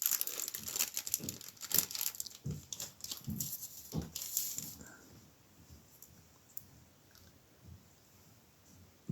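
Close crinkling and rustling of a small plastic baggie holding toy weapons, busy with rapid crackles for the first few seconds, then quieter, sparser handling sounds toward the end.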